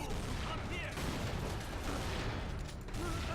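Grenades thrown at a boss in Tomb Raider: Legend, a dense run of rapid explosive bursts and crackling impacts that fills the whole stretch at steady, loud volume.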